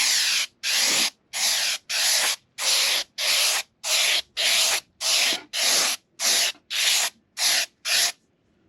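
A spray can of sanding sealer hisses onto a wooden sign in about fourteen short, even bursts with brief gaps between them, close and loud, with no talking.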